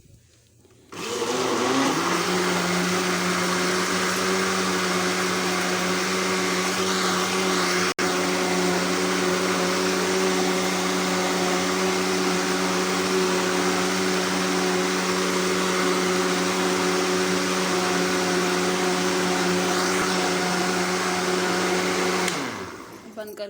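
Electric blender churning cream into butter, starting abruptly and running with a loud, steady whirring motor hum for about twenty seconds before cutting off.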